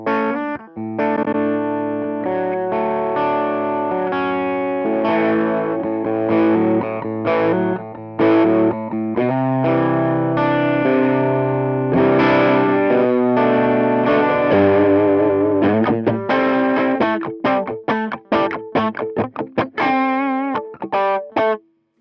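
Electric guitar through a Hotone Ampero amp modeler on its Twin Rock 2x12 model, with distorted chords and lead lines ringing continuously, then quicker choppy picking toward the end.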